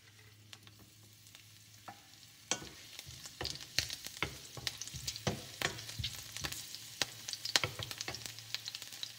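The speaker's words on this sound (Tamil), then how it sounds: "ஆயில் சூடானதும் அதில் பூண்டும் மிளகாய் போட்டுக்கலாம்." Garlic and chili sizzle in hot oil in a pan, with crackling pops and stirring scrapes growing denser after a quiet start, close up and without talk.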